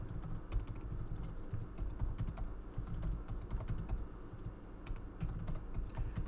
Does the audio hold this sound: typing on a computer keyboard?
yes